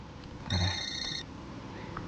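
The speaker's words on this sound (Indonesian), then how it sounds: "Ada telepon." A short electronic ring, a single brief burst in a quiet room, moderately faint.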